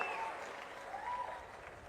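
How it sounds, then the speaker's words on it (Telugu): An audience at a government event claps in a steady, moderate round of applause. The sound is fairly faint and distant, with some crowd murmur underneath. "గట్టిగా చప్పట్లు కొట్టి కలెక్టర్ని,"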